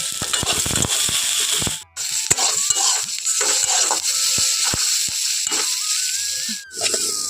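Eggplant slices frying in oil make a close, crackling hiss, with clattering scrapes and a couple of brief near-silent gaps.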